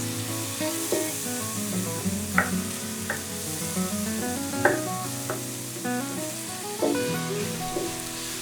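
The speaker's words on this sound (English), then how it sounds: "Now add the garlic and saute for about another minute until fragrant." Garlic, onions and mushrooms sautéing in a pan, a steady close sizzle with repeated scraping stirs and clattering utensil hits spread across the stretch, no talking.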